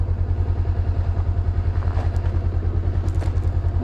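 A Honda CB 500 X motorcycle rumbles steadily while riding, with a loud, pulsing engine throb and wind noise up close, plus a few faint clicks and rattles.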